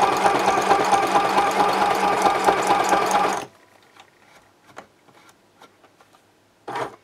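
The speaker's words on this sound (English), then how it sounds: "I'm lining up the folded edge of my fabric with the outside edge of the sewing machine's presser foot." A sewing machine stitching fabric runs steadily for a few seconds with a fast, even mechanical whir, then stops, leaving faint clicks and a brief burst near the end.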